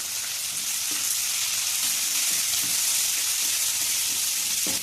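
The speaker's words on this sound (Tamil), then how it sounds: "இப்போ நம்ம வெங்காயம் போட்டுக்கலாம். வெங்காயத்தை வதக்கிக்கலாம்." Chopped onions sizzle and fry in hot garlic-flavoured oil in a pan, a steady close crackling hiss that continues unbroken, with no talking.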